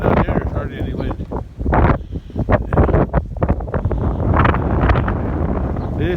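Strong wind blows outdoors on a cold day on a farm, gusting and buffeting close against the microphone in loud bursts, while people talk over it.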